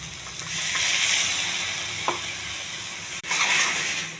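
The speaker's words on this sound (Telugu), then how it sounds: "ఉప్పు, కారం, ఉప్పు, పసుపు, ఈ టమాటా పేస్ట్లు వేసేయాలండి." Tomato paste with salt, chili powder, turmeric and garam masala sizzles in a pan: a steady close frying hiss, with a brief stirring scrape midway and a short break near the end.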